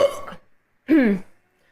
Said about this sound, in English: Do you guys mind if I burp?